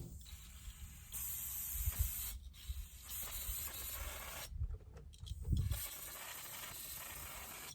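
CRC brake clean aerosol sprays in several short hissing bursts, close and fairly quiet, with gaps and faint handling noises between them.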